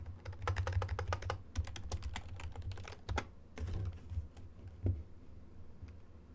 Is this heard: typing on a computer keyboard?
yes